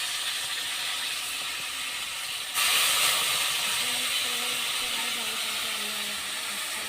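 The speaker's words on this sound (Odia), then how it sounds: "ବାଟଣ ଏବେ ଜାରିଦେବା" Onion paste frying in hot oil for a village-style Indian fish curry, a steady hiss that jumps louder and brighter midway as the paste hits the pan, then settles into a continuous sizzle.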